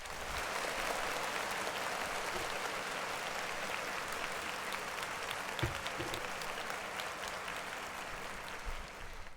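Sustained applause from a crowd, steady and dense throughout, with a few louder claps standing out near the middle.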